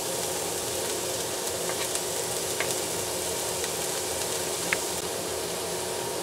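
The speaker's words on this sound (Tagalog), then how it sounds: "pinumumbot ang ating sibuyas" Onions sauté in a pan while egg caldereta is being cooked, giving a steady, close hiss of frying with a few faint pops and clicks and no voices.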